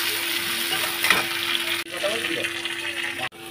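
Eggplant and ridge gourd fry in a pan with a dense, continuous sizzle up close, cut by two brief dropouts, with no talk over it.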